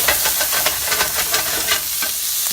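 Garlic and ginger stir-frying in a hot pan for a vegetarian stir-fry, a loud continuous sizzle with rhythmic scraping stirs pulsing through it, close and without talk.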